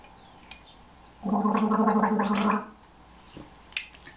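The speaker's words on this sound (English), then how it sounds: "you should gargle, this is gargle" A person gargles once for about a second and a half, a close, loud bubbling rattle standing alone between quiet stretches.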